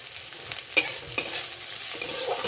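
Cumin seeds sizzling in a little hot oil as a tempering for cholar dal, a soft, even frying hiss with a couple of sharp pops and light scraping, close up and without talk.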